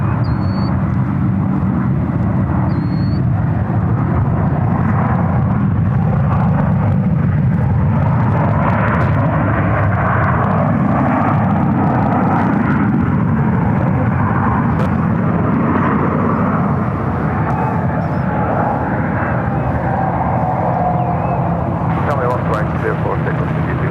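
Airliner taking off at San Francisco International Airport, a sustained loud roar of jet engines rumbling steadily throughout, heard from a distance with a faint radio voice over it.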